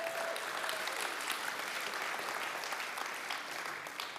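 Applause from an audience at a church talk, a dense, even patter of many hands sustained throughout, fairly faint and distant with no talk over it.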